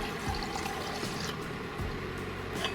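About 600 ml of warm water is poured into a pot for a herbal drink, a steady gushing, splashing fill heard up close and continuing without pause, with no talk.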